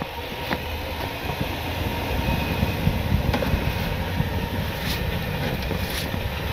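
A stuck, broken-down vehicle's engine held under throttle, a steady low rumbling drone with gritty texture and faint rattles, moderately loud and close, running alone without talk.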